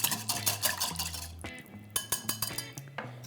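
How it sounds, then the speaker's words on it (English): A whisk clinking rapidly against a bowl while mixing hot bacon dressing with cracked pepper, a quick rhythmic metallic tapping with a short pause midway, close and fairly quiet. "And then whisk that to combine."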